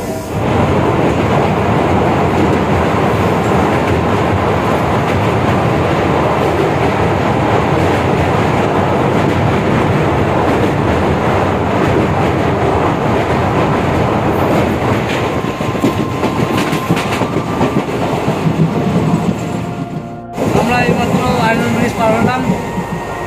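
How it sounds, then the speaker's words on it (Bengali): A night passenger train just pulled out of Jangipur station rumbles steadily with continuous rolling noise and clacking from inside the carriage, loud and unbroken, with a brief dip near the end. "আমাদের ট্রেন জঙ্গিপুর স্টেশন থেকে মাত্র ছাড়লো"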